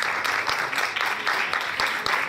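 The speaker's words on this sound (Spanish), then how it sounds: "Si ese aplauso era de desánimo, está bien. Pero si ese aplauso era de ánimo, tiene que ser mucho mejor." Sustained audience applause filling the hall after a talk at a Christian children's sexuality teaching event, dense steady clapping with scattered louder claps throughout.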